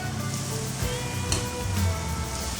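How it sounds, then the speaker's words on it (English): Squid rings drop into hot oil and fry, giving a steady close sizzle with a soft crackle running continuously throughout and no talking. "When you pop them in, you should be able to just see them start to fry up straight away."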